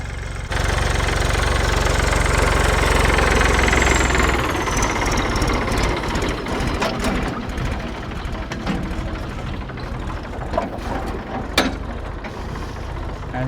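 A large tractor engine chugs loudly while ploughing a sown field in a Botad village, a steady mechanical drone that eases and grows more uneven partway through, with sharp clanks toward the end.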